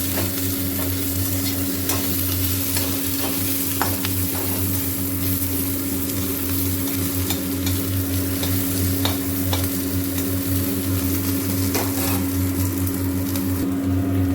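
Chopped onion, green chilli and garlic frying in a little oil in a pan, giving a steady close sizzle with a low background hum and occasional light scrapes of stirring throughout.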